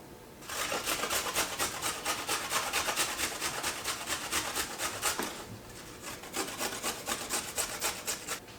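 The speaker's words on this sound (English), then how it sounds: "finished up grating the ginger root" Fresh ginger root rubbed against a grater in steady back-and-forth rasping strokes, close and continuous for several seconds, with a brief pause before the scraping resumes.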